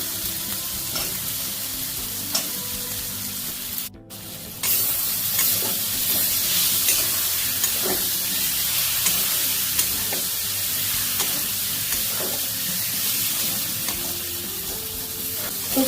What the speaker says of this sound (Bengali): ভালো করে মশলাটা কষে নিচ্ছি।